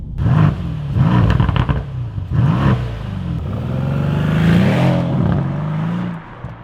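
A loud 2019 Mercedes C63 S V8 engine exhaust roars and revs close by, a deep continuous rumble that swells and then drops away near the end.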